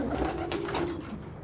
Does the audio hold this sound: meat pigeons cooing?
yes